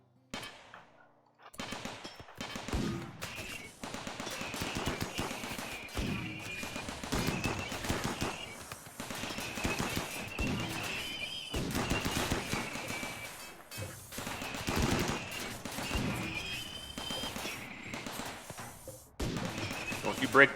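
Assault rifles fire in RimWorld as colonists fight Scythers: sharp shots in scattered rapid bursts, fairly close and repeated throughout, with a voice talking over them.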